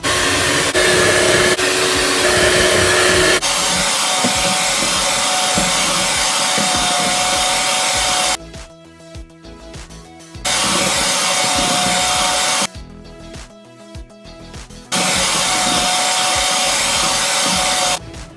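Electric mixer whipping a froth over heat toward 71 °C, a steady loud motor whine running in three long bursts separated by short quieter gaps, with no talking.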